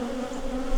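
Bees from a hot, aggressive hive buzzing against a beekeeper's veil, a close, steady droning hum that holds without a break for the whole moment, with no talk.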